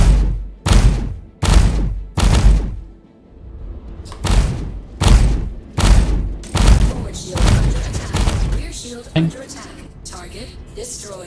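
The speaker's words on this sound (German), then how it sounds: "Der explodiert wirklich wie so ein kleines Feuerwerk." Spaceship blowing apart in Star Citizen, bursting in a quick series of loud booming thuds like small fireworks, about ten sharp blasts with decaying rumble, while people talk underneath.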